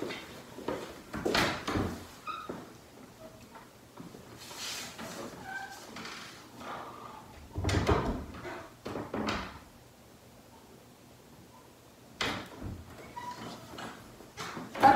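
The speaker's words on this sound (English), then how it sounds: "close the door behind myself." A door opens and closes inside a house, with several clunks and thuds spread across the stretch, one heavier shut near the middle and quieter handling sounds between.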